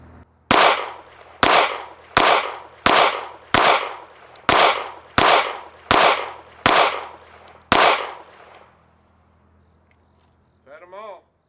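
Ten sharp, loud gunshots in a steady rhythm from a Strike Industries Mass Driver pistol firing 124 grain Berry's bullet reloads over 4.8 grains of CFE pistol powder, each report followed by a short decay, then a brief metallic clatter.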